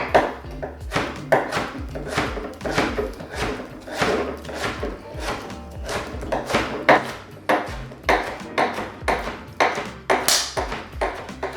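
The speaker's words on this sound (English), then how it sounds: "we're just gonna cut them into little strips" A knife chops tortilla stacks into strips on a cutting board, a quick irregular run of sharp taps and thuds close up, with no talk.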